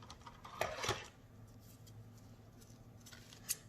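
Scissors make a few small snipping cuts through folded tissue paper, quiet clicks and rustles clustered near the start with one more crisp snip near the end, over a faint background hum.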